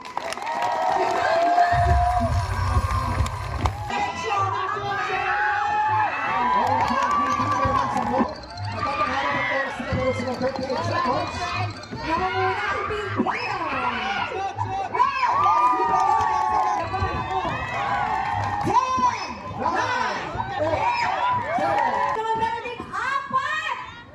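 A live studio audience in a TikTok show studio claps and cheers on cue after a countdown, a dense sustained crowd roar with whoops and chatter that continues throughout, while a host's voice talks over it.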